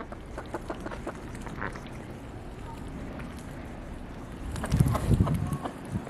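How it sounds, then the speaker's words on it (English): Chickens in the snow give soft, scattered clucks up close, with a louder fluttering burst near the end. "I think the chickens want to go back inside."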